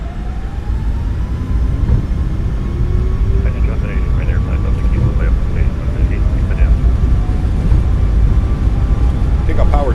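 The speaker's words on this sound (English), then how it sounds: "Takeoff power set, we're rolling." Boeing 737 MAX 8 engines at takeoff power in a simulated Ryanair flight, a loud steady broadband roar with a rising whine throughout, while voices talk over the engine noise.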